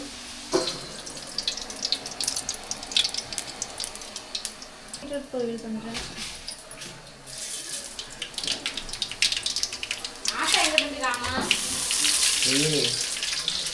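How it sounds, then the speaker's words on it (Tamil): A tap runs while dishes are washed beneath it, with occasional clinks of utensils. People talk intermittently over the running water. "நான் பாத்திரம் வளைக்கிட்டு இருக்கேன்"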